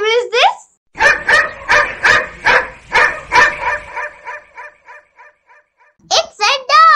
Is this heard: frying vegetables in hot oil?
no